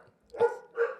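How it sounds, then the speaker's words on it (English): A dog barks twice at home, two loud, close woofs about half a second apart. "Excuse the barking."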